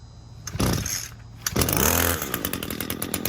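Small lawn equipment engine, likely chainsaw-type, coughing on pull-start attempts, then catching and running with a loud buzzing two-stroke drone close by, with no voices.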